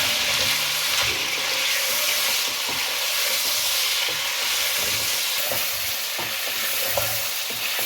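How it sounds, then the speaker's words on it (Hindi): Chicken frying with garlic ginger paste in a karahi: steady loud sizzling and hissing from the pan, with occasional scrapes and clinks of stirring, close up and continuous without talk. "उसको लहसुन अदरक पेस्ट के साथ भून लें"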